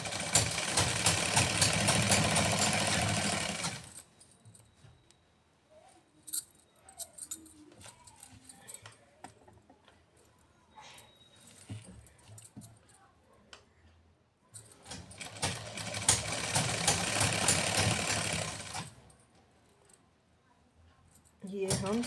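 A sewing machine does round stitching on a salwar, whirring in two sustained runs of several seconds each, with quieter handling and a voice in between.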